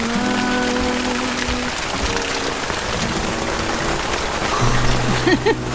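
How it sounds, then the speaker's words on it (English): Steady heavy rain patters densely and continuously on a sailboat with its cockpit open, a broad hiss filling the space, with a few faint tonal sounds and voices underneath. "It's raining a lot."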